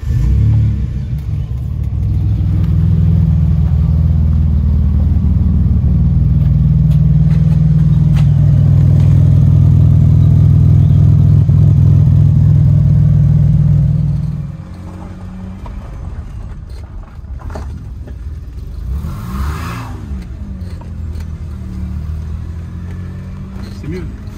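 A Peugeot 605 SV24 fitted with a homemade exhaust made from an old motorcycle muffler runs loudly and close, its engine rising and holding in rough revs for about fifteen seconds before dropping to a quieter idle, with people talking around it.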